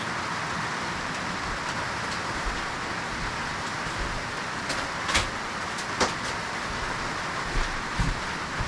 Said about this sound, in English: That noise you're hearing is, it's pouring.